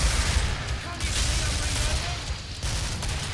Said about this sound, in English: I'm just going to shoot randomly.